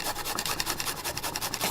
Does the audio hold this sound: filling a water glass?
no